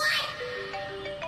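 A mobile phone ringtone sounds for an incoming call in a Hindi film scene, a short melodic electronic tone of a few sustained notes, clear and close, with no talk over it.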